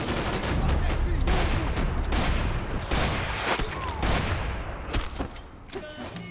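Dense gunfire from the Max Payne 3 video game, a steady chaotic fusillade of rapid shots with loud bursts throughout, no speech heard.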